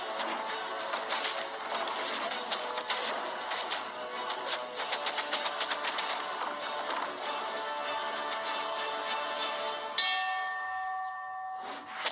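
A boxing match bell rings out near the end, its bright tones standing above a dense, noisy din of crowd and fight that fills the rest of the scene.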